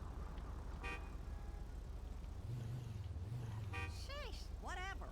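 Short car horn beeps from a vehicle in a video game, sounding over a steady low engine drone with someone talking, the honks clustered near the end.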